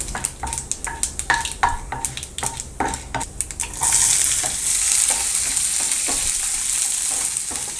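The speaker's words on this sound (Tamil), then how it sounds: "பொன்னிறமானதுக்கப்புறம் வெங்காயம், பச்சை மிளகாய், கருவேப்பிலை ஆட் பண்ணிக்கலாம்." Onion, green chilli and curry leaves hit a hot pan with a sudden loud sizzle, after a run of sharp spoon-and-pan clinks and stirring taps; the frying hiss then holds steady and close to the end.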